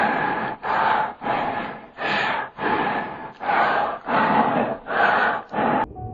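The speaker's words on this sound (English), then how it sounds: "you'll be in a distorted maze and hear loud breathing" Loud, heavy breathing in a distorted maze in a Roblox horror game comes as eight long, rhythmic breaths, each a rasping inhale or exhale separated by short pauses, close and alone.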